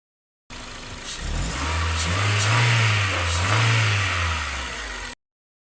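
A car engine with a faulty MAP sensor runs close by, revving up and down in two slow swells, loud and steady, with no talking.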